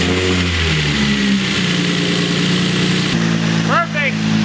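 A Nissan 350Z engine fires up for its first start after a nitrous install, idling loudly close by with shifting revs and a short whistling chirp near the end, voices talking over it.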